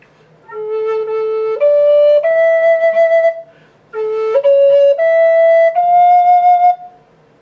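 A breathy wooden Native American flute plays a slow, simple melody from Beethoven's Für Elise in two phrases, each stepping upward through held notes, with a short pause between them.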